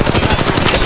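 A short burst of rapid automatic gunfire in Apex Legends Mobile, with quick evenly spaced shots rattling loud and close for under a second.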